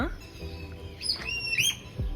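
A myna bird at a zoo in Gwalior gives a few sharp whistling calls and squawks over a quiet background, close by.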